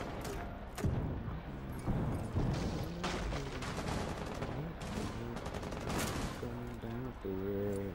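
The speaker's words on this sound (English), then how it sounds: "Shoot through that window!" Rapid bursts of gunfire come from a tactical shooter video game, loud and continuous with repeated volleys and heavy thuds. Players talk excitedly over the shooting.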